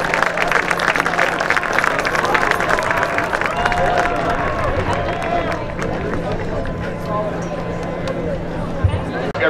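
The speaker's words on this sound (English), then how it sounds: "So another round of applause for our North Hall Teachers of the Year." Crowd at a North Hall High School homecoming event gives a round of applause for the Teachers of the Year, clapping and cheering mixed with chatter and a voice, tapering gradually.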